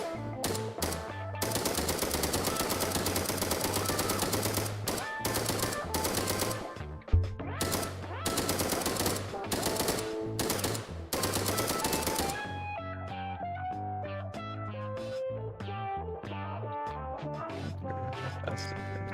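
Submachine gun fire in a card video game, rapid loud bursts of shots in quick succession, followed by a softer, sparser stretch of clicks and tones at the end.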